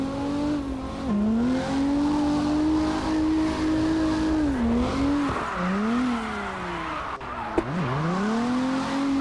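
A car engine drones steadily in the CarX Drift Racing online game, its pitch swooping down and back up as the handbrake throws the car into repeated drifts, loud and continuous throughout.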